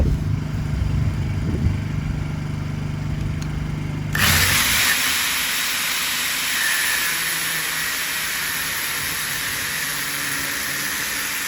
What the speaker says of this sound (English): So I'm going to cut those down.